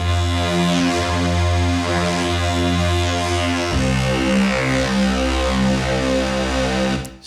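A loud, gritty synth bass with harsh razor distortion, pulsing in a steady rhythm and dropping to a lower pitch midway.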